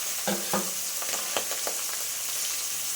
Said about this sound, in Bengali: এই মাছ ভাজার সময় একটু সাবধানে থাকবে, প্রচুর ফোটে মাছটা